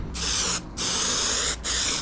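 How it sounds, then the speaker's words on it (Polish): Spray adhesive hissing from an aerosol can while gluing a headliner in a Vladimirets T-25 tractor cab, three close, loud bursts of spray separated by short pauses. "To jest klej w sprayu."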